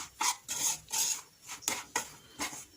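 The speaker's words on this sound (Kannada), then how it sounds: "ಫ್ರೈ ಆದಮೇಲೆ ಅದೇ ತುಪ್ಪಕ್ಕೆ ರವೆ ಹಾಕ್ಕೊಳ್ತಾಯಿದ್ದೀನಿ." Semolina frying in ghee is stirred in a pan, giving rhythmic scraping strokes roughly every half second, close and fairly crisp, with no talking.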